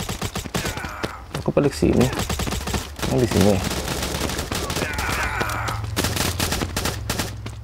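Rapid automatic gunfire from an AK47 in the mobile shooter Modern Ops on the Facility map, dense crackling bursts firing in quick succession, heard alongside game sounds while a player talks over the action.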